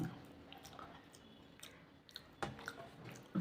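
Someone close by chewing hot rice mashed with boiled potato, with quiet soft wet mouth sounds and a few small clicks at a low level.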